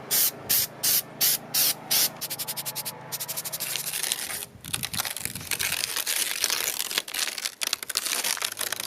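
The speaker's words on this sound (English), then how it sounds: "and then we'll spray that." Rapid bursts of spray from a can applying protective coating to a Mazda MX-5 Miata fender, short regular puffs at first, then a longer continuous hiss with rustling and scraping, close and loud.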